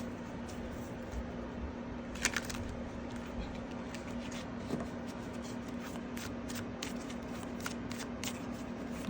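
Tarot cards are shuffled quietly and close by, a soft continuous riffling with a few sharper clicks and taps, under a faint steady background hum.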